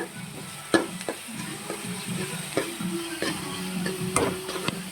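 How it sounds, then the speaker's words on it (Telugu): Meal maker masala curry is stirred in an oily frying pan, a spoon scraping and clacking against the pan in irregular strokes over a soft continuous sizzle, close and moderately loud, no talking. "ఏగేదాకా మనం ఇలా కలిపెడుతూ ఉండాలి"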